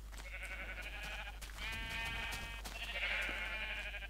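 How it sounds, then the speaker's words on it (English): Sheep in the Minecraft game bleat in several wavering calls, one after another, over a constant low hum, with no talk. "apparently sheep are what she wants."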